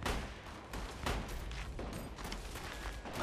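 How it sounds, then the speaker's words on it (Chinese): Continuous rattling volleys of rifle and machine-gun fire, with heavier booming blasts mixed in, from a battle between a guerrilla unit and a large Japanese force sweeping a village in an anti-Japanese war film. The shooting is dense, rough and steady, with no voices. "南边开打了，听着枪声，动静还不小。"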